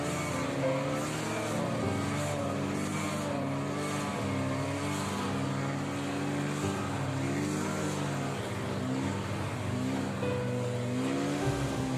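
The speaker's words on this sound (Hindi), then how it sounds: "ज़रूर ट्राई कीजिए ये स्नो मोबाइल राइड।" A snowmobile carries riders on a winter mountain trail at Sonmarg, Kashmir, its engine a loud, continuous droning whine with shifting pitch as it rises and falls over bumpy terrain.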